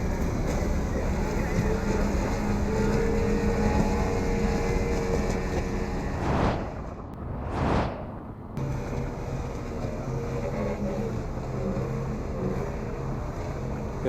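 Racing motorboats in a 60 mph class regatta roar steadily at close range, with a louder boat sweeping past midway, then the engine drone resumes under wind noise.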